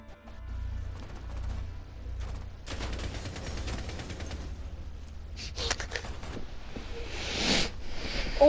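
Gunfire in the tactical shooter Rainbow Six, with rapid bursts of automatic shots in irregular clusters, fairly close and sharp, growing denser toward the end.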